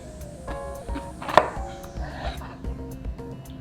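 A knife chops zucchini on a cutting board, slicing off the tip and then cutting it into slices. Quick, close knocks of the blade hit the board in an uneven rhythm.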